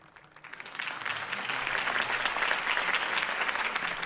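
Applause in a video game, a crowd clapping after a campaign speech for Harvey Dent; it swells in quickly from near silence into steady, dense clapping that holds at moderate loudness.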